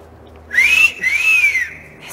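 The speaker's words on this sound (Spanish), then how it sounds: "¿Ese silbido?" Two rising-and-falling whistled notes, clear and fairly close, the second longer and smoother than the first, with quiet background between them.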